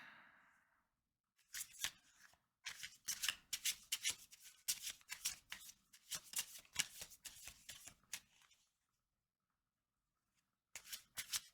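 Tarot cards being shuffled in quick riffling bursts, a long run of crisp flicking cards and then a brief second burst after a pause, close and clear with no talking.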